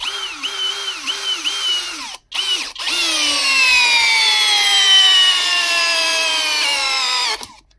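Cordless Ronix screwdriver driving a small screw: a loud, close motor whine that stutters in short pulses, pauses briefly, then runs steadily with slowly falling pitch for several seconds before cutting off.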